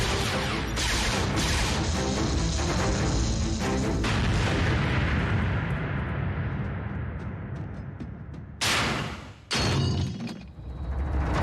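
Loud explosions boom and crash in an animated Transformers Prime episode, followed by rumbling debris, then two more sharp blasts near the end.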